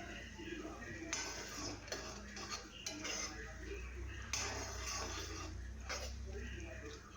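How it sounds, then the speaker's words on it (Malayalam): A utensil stirs jaggery and flattened rice together in a cooking pan for aval payasam, giving steady scraping and light metallic clinks against the pan at moderate, close range. "അവലും ശർക്കരയും കൂടി നന്നായിട്ടൊന്ന് മിക്സ് ചെയ്യുക."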